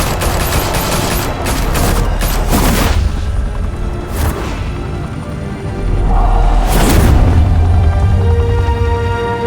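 Sustained gunfire and booming shots in Batman: The Telltale Series, with bursts of fusillade and heavy impacts rising and falling across the scene, loud and dense throughout.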